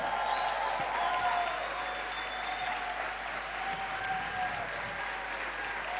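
A church congregation at a harvest celebration service applauds together, a steady moderate wash of clapping with a faint tone lingering underneath.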